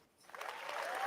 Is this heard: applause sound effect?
yes